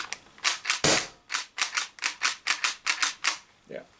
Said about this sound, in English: Let me see if I can dry fire it.